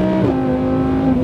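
A Lamborghini engine roars loudly and steadily close by, a continuous droning tone with a slight pitch drop as the car drives.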